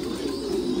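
Pigeons coo at a pigeon farm, a steady low rolling murmur of many birds that stays at an even level throughout.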